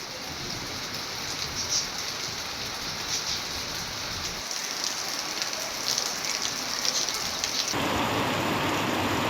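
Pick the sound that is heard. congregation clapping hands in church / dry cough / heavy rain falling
heavy rain falling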